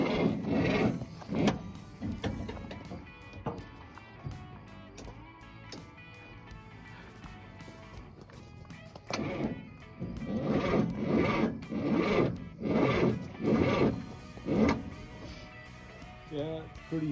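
An old car engine that sat in a barn for 46 years cranks slowly and dryly without firing, a labored rhythmic churning in uneven bursts, with voices faintly present.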